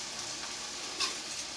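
Food sears in a hot pan with a steady, broadband sizzle at moderate loudness, holding constant throughout with one brief brighter spatter.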